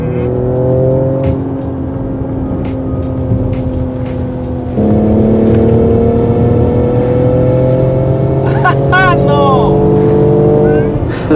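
A BMW 2 Series accelerates hard from inside the cabin, its engine note climbing steadily, dropping at a gear shift and rising again. The sound is loud and close, with brief voices near the end.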